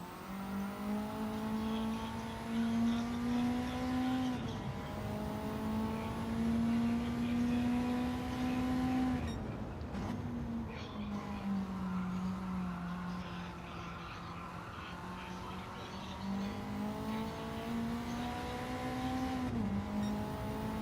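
Race cars in the Gran Turismo video game, a steady whining engine tone climbing and dropping through gear shifts, with one car roaring past midway.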